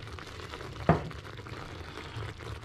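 Parmesan being stirred into a creamy mushroom sauce in a pan, a soft continuous bubbling sizzle with one sharp spoon knock near the start, close and quiet.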